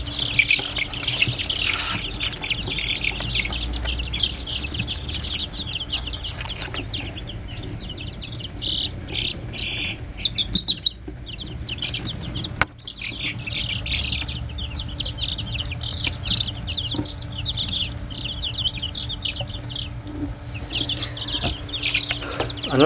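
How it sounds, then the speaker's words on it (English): Chicks only a few days old, among breeds like Rhode Island Reds, Black Australorps and bantams, chirp and peep continuously in a dense, busy chorus, loud and close with no talking. "Here's the chicks. And these guys are just a few days old now."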